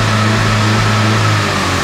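A Mini Cooper S engine in sport mode revs hard and steadily, a loud close mechanical drone with no talk, the car suffering voltage issues that leave its ECU misbehaving.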